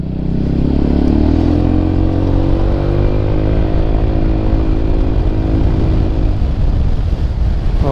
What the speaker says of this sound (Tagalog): Grabe Ganito yung acceleration.